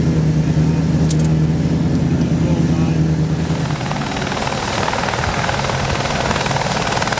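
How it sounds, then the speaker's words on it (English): A support helicopter warming up on a landing pad beyond trees beside a police headquarters at the Manx Grand Prix on the Isle of Man; a steady, fairly loud turbine and rotor hum that fades after a few seconds into broader noise. "The distinctive noise there of one of the support helicopters warming up on the landing pad there, the other side of the trees, next to the police headquarters."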